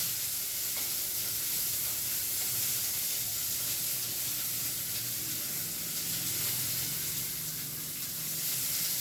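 Ivy gourd pieces sauté in a hot pan, a continuous close sizzling hiss with faint stirring movements throughout, steady and unbroken.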